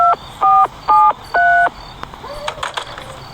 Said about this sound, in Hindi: मिस्टर मीट के अपने कमरे में है वो टेलीफोन, जिससे हम कॉल करेंगे पुलिस को।